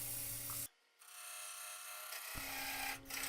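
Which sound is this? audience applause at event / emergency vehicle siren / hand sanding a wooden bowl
hand sanding a wooden bowl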